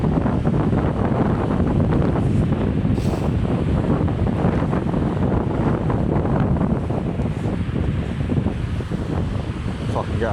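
Strong 35 mph wind roars continuously across a fishing spot by the water, buffeting the microphone with loud, steady rumbling gusts for the whole stretch, with no talking.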